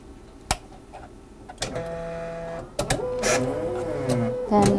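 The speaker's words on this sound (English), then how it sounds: "Just going to run this sample on the haematology machine." A veterinary haematology analyzer runs a blood sample: sharp clicks, then whirring motor tones that rise and fall in steps, with mechanical ticks between, close and moderately loud.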